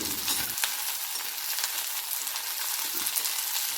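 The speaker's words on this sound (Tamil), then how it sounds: "பச்சை வாசம் போகிற அளவுக்கு நல்லா வந்து வறுத்து விட்டுக்கலாம்" Garlic, coriander, cumin, pepper and chillies frying in a pan for mint chutney give a steady, close sizzle throughout, with a few light stirring scrapes and no talking.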